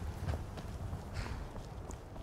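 In Skyrim, a following horse's hooves clop on in a soft, steady rhythm, fairly quiet and close, with no talk.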